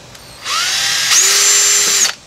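A hand power drill fitted with a roughly 1/8-inch bit runs up to speed and holds a loud, steady whine while boring a hole for a rivet, then stops abruptly.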